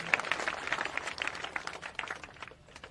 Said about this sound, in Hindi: तालियां बजाइए बढ़िया से।